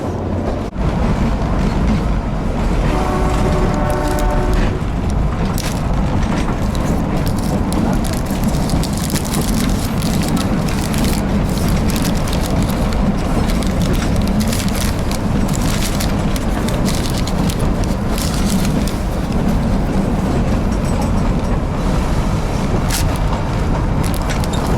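Himalayan mountain train rolling along its rails, a loud continuous rumble and rattle with rushing noise throughout, steady and close from start to finish, with a brief tonal squeal near the beginning and no talking.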